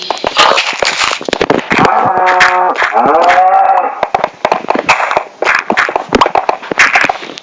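Cattle low in a video game, a drawn-out moo rising among rapid clicking and popping effects, loud and close.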